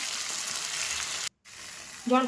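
Chopped onion and tomato sizzle in a frying pan after fish has been fried, a loud steady hiss that cuts out briefly, then resumes, with a short tonal clink near the end.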